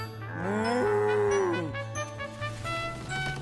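Cartoon cow gives one long, loud, close moo with a rising then falling pitch, over a steady low hum and a soft musical background.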